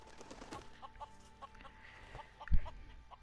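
Chickens cluck in a farm scene of the video game Lego Marvel Avengers, soft scattered clucks over quiet game ambience, with a brief low thump or wing flap near the end.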